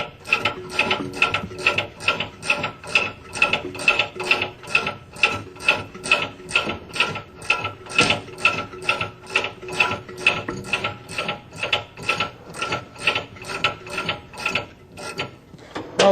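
A ratchet wrench clicks steadily in quick, repeated strokes while preloading a suspension coil spring, each burst of metallic pawl clicks close and crisp with brief pauses between pulls.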